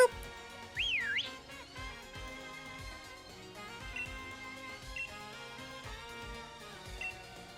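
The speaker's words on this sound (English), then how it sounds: "head over here to this fountain and then whistle" The player character in Pokemon Sword & Shield whistles beside a fountain, a short rising and falling whistle near the start over steady game music, with a few faint chirps later.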